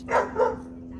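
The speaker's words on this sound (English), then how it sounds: "That's my dog." A dog gives two quick, close barks in a row, followed by a steady low hum in the background.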